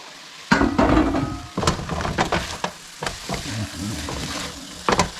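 Mushrooms, onions and peppers fry in a pan, giving a steady close sizzle broken by sharp clatters and scrapes of stirring over about five seconds.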